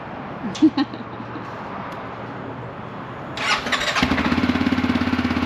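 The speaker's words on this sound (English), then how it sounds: "CF Moto 600 cold start." A CF Moto 600 motorcycle cold-starting outdoors at a state park campground: a starter whirr, then the engine catches and settles into a steady, throbbing idle, fairly close, with no talking over it.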